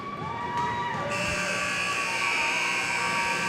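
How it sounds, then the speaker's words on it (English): A long, steady electronic end-of-game buzzer blares through an ice hockey arena at a U13 AAA championship in Waterloo, continuous and loud, with a faint crowd murmur beneath. "The buzzer sounds here in Waterloo."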